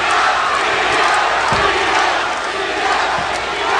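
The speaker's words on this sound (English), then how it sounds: "Crowd chanting for Juan Diaz, trying to bring him home in this extremely difficult 12-round fight." A boxing arena crowd chants for Juan Diaz late in a hard 12-round WBA lightweight title fight, a loud, continuous roar of massed voices with a few sharp thuds.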